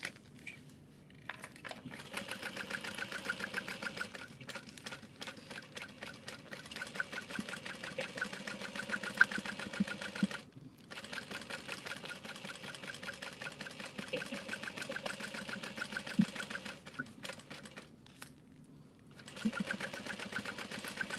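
Sewing machine basting fabric 1/8 inch from the edge, a steady close mechanical whir with rapid stitching rhythm running almost continuously, pausing briefly a few times.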